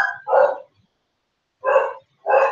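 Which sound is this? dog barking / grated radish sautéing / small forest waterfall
dog barking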